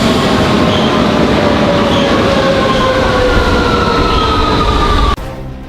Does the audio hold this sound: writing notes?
no